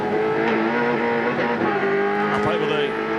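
Holden Commodore V8 race cars at the 2001 Adelaide 500 street circuit, engines droning steadily and loud with shifting pitch as cars pass, a brief tyre scrub near the end, under a commentator's voice.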